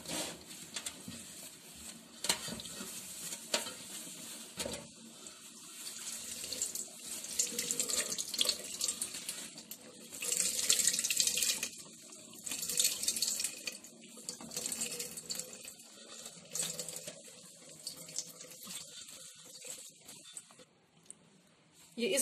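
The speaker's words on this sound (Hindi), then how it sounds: "अब साफ पानी इस पे डालकर" Clean water splashes from a tap over crushed drumsticks (sohanjna) in a kitchen as they are rinsed and squeezed, with irregular pouring and sloshing in waves under intermittent talk.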